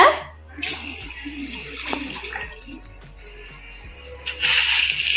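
Two tumblers of water splash and gush into a cooking pot for macaroni, starting and stopping, with a louder rush of pouring near the end; faint background noise underneath.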